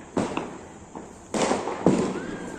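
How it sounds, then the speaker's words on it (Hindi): Diwali firecrackers go off around a home, three sharp bangs at irregular intervals, each followed by a brief crackling decay, moderately loud and at some distance. "पटाखों की आवाज़ें तो आप सुन ही रहे हैं"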